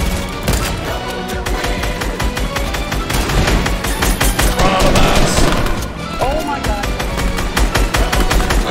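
Dense, loud gunfire from a Fortnite battle royale match, rapid bursts and volleys crackling almost continuously under occasional player voices.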